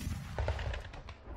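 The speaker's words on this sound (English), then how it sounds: "loud explosions rocked the city" Explosions rock a city under siege during a Boxer attack on Peking: a short, muffled cluster of rapid bangs over a low rumble, heard at a distance and fairly faint.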